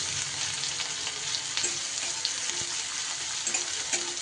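Finely chopped onion fries in a pan, a steady close sizzle with occasional stirring scrapes and light taps, no talking.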